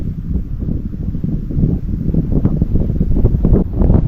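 Wind buffeting a microphone outdoors, a continuous low rumbling roar that gusts slightly stronger toward the end.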